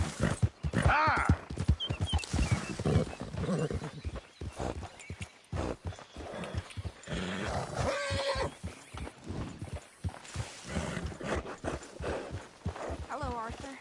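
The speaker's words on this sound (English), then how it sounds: "Careful with that horse, Arthur." Horse in the video game Red Dead Redemption 2 whinnies and clip-clops at a trot, close and fairly loud, mixed with frequent character dialogue spoken over it.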